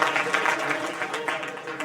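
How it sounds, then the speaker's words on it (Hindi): An audience applauds for prize-winning girls at a community student award ceremony in Jhalrapatan, with dense, steady clapping that fills the room and stays loud throughout. "जोरदार तालियां पूजा के लिए"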